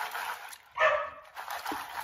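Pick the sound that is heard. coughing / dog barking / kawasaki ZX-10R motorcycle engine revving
dog barking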